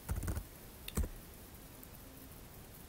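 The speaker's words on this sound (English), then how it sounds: "I'll type it in again." A few keystrokes typed on a computer keyboard: a quick cluster of clicks followed by one or two more taps, close and fairly quiet, with no talk.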